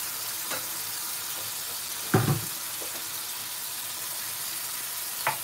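Base gravy sizzling in a pan of black pepper curry, a steady close frying hiss with a few brief stir clatters and splashes, no voices.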